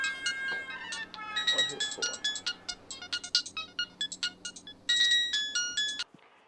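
Mobile phone ringtone for an incoming call, a bright electronic melody of quick chiming notes that plays for about six seconds, close and clear, with a voice speaking briefly underneath.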